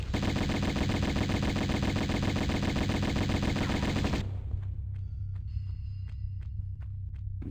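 Rapid, continuous Uzi fire from Tomb Raider remastered rattles loudly for about four seconds, then cuts off, leaving a few faint clicks and thuds.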